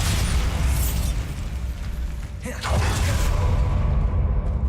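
Loud, sustained spell blasts in Hogwarts Legacy as the Bombarda explosion spell is cast, with booming bursts, rumbling debris and a brief dip before another eruption.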